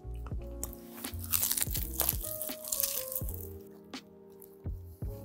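Crisp bites into oven-baked chicken wings coated in baking powder and cornstarch: several sharp, close crunches followed by moist chewing, heard alone and up close.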